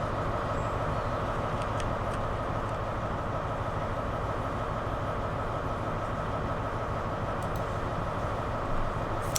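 A class 43 HST, power car 43002 Sir Kenneth Grange, pulls away in Train Sim World 6, its engine drone steady and loud throughout, with faint rail clicks over the top.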